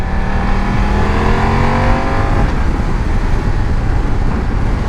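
BMW F900 XR motorcycle accelerating on the road, a loud sustained engine roar with rising and shifting revs under steady wind rush, heard from close by.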